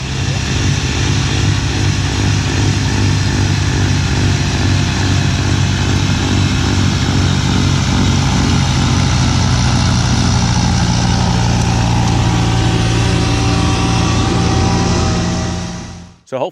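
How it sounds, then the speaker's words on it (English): Kubota B2782B snow blower mounted on a B2601 compact tractor, running as a loud, steady engine drone with a constant rumble and whine, close and unbroken until it cuts off at the end. "listen to the sound that you hear coming out of the snowblower"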